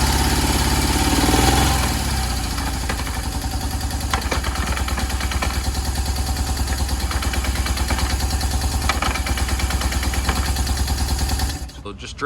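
An old BMW R1100 motorcycle engine idling close by with a steady, rhythmic low thumping, cutting off near the end.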